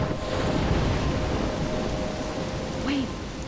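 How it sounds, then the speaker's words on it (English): A thunderstorm with heavy rain in the video game Life Is Strange, a steady dense wash of rainfall with low rumbling underneath and a faint whistling wind; a brief voice-like sound surfaces near the end. "I'm trapped in a storm?"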